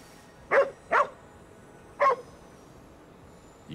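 A dog barks three times in the game Ghostwire Tokyo, two quick barks and then one more after a pause, clear and moderately loud over a quiet background.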